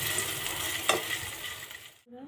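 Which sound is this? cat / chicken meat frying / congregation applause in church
chicken meat frying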